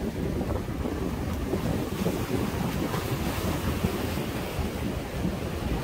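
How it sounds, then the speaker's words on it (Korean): Sea waves surge over the rocks at a harbor breakwater, a steady loud roar of surf mixed with wind buffeting the microphone, with no voices. "파도가 넘쳐버린다."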